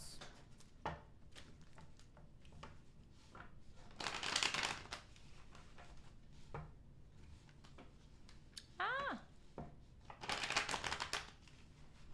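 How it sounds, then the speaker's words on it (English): Tarot cards are shuffled close by in several quiet riffling bursts, separated by soft taps and handling sounds. "Two more shuffles."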